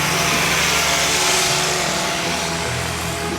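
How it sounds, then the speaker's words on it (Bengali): A small high-pitched engine-powered machine cutting trees along a roadside near Corniche Beach in Abu Dhabi, droning steadily and loudly throughout with no pauses. "মেশিন দিয়ে গাছ কাটতেছে"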